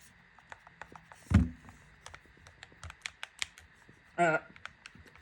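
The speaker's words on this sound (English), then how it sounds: "I'm doing the clicky test." Nintendo Switch 2 Pro controller buttons clicked in quick, irregular bursts of sharp, close taps, with a couple of louder thumps and brief background sounds between them.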